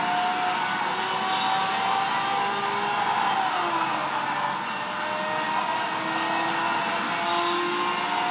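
A racing car engine in Need For Speed Shift drones loudly and continuously, revving steadily with shifting pitch and tire noise throughout, with no music or talk.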